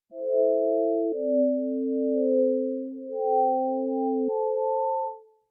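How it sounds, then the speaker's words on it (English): Smooth chord patch built from detuned sine waves in the Dune 3 synth, with an LFO on fine tuning, a few soft sustained chords shifting gently one into the next, pure and fairly quiet. "I created this patch in Dune 3. This is just some detuned sine waves"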